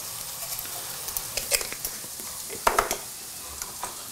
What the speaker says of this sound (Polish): przy smażeniu boczku, cebuli, czosnku, skórek dorzucamy